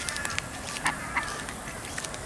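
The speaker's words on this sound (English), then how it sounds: "Look, the ducks aren't even scared of me." A few short, faint quacks and honks from ducks at a distance in Brisbane over a steady rushing background, with no talking.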